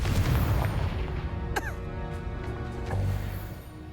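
A Confringo explosion spell from Hogwarts Legacy lands as a heavy, rumbling boom, followed by a sharp crackling burst with a sweeping magical shimmer and lingering low rumble.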